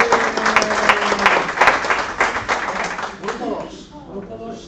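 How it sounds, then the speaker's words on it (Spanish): An audience at a Design Thinking innovation workshop applauds a group: dense, steady clapping from a roomful of people for about three seconds, then it thins out as voices take over. "Pues un aplauso para ellos, ¿no?"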